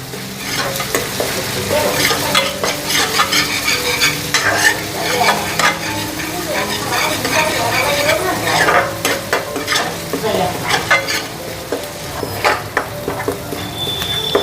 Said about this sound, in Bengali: আদা রসুনটা ভালো করে ফ্রাই করে নিই